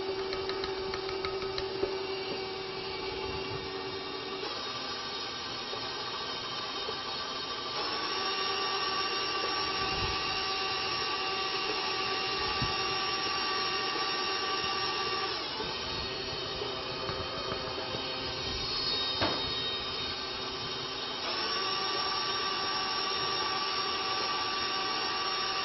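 An electric mixer churns flour into dough for lemon tea bread at low speed, a steady whirring motor drone with a few bumps and shifts in load, continuous and close with no voices.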